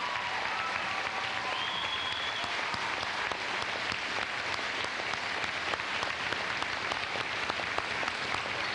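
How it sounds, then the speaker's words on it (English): Graduation ceremony audience at a high school applauding, a broad continuous wash of many hands clapping in a large hall, steady and fairly loud throughout without any talking. "Let's give them a round of applause."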